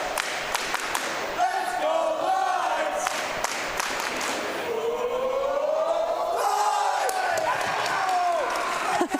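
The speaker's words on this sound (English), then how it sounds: "That's what we want from a home crowd." Home crowd of Northern Lights fans at a volleyball match keeps up a loud, continuous roar of cheering and chanting with rising and falling pitch, while commentators talk over it.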